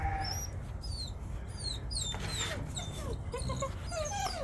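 Great Pyrenees puppies whimper and yip in thin, rising squeals, several small voices overlapping in quick bursts against a faint background, fairly soft and close, in a straw-bedded pen.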